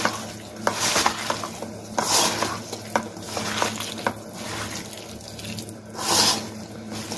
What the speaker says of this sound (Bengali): এখন সুন্দর করে আমি আচারটাকে মাখিয়ে নেবো